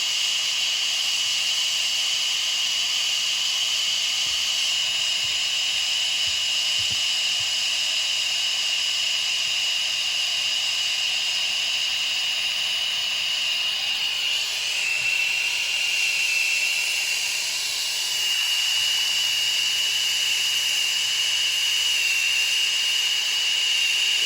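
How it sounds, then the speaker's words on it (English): A steady, loud hiss of steam from a Crown gas boiler boiling water runs throughout, with a high whistling tone and faint low knocks and bumps underneath. "But we're boiling water right now."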